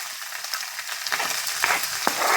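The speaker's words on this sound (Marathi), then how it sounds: "आता याचे याच्यामध्ये आपण एक मोठा कांदा टाकूया" Chopped onion dropped into hot oil already seasoned with asafoetida, for a Marathi potato curry, crackling into a steady broadband sizzle with a few sharper pops and spatters, close and fairly loud, no voices.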